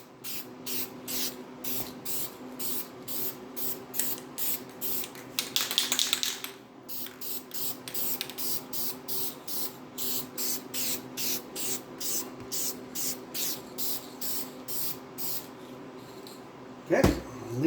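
Light coat of spray paint going onto a 1968 Pontiac GTO 400 oil filter housing, heard as a long run of short rhythmic hissing bursts with a steadier spray near the middle, close and fairly loud.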